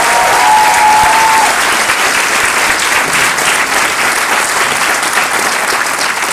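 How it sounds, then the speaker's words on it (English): Audience at a business meeting gives a big round of applause, a loud, dense, continuous clapping that fills the room for several seconds, with a faint voice briefly at the start. "Give these guys a big round of applause."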